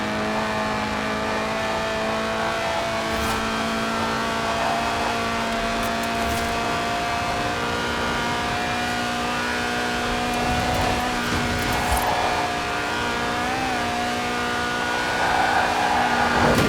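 A Lotus sports car's 1.8-litre, 190-horsepower engine, revving toward 8,000 RPM in the Forza Horizon video game, holds a high, steady whine with strong harmonic tones, revving slightly and shifting pitch, loud and continuous with no talking.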